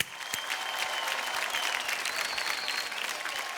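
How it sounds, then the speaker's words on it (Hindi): Steady studio audience applause from a Hindi TV show set, a dense wash of many hands clapping at even loudness throughout with no talk over it. "तालियां।"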